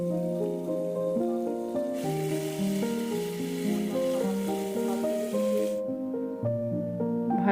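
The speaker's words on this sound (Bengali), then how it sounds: "চিংড়ি মাছগুলো আমি একটু ভেজে নিই।" Shrimp coated in salt and turmeric fry in oil in a wok, a soft continuous sizzle running beneath a sustained melodic background tone, with no talking.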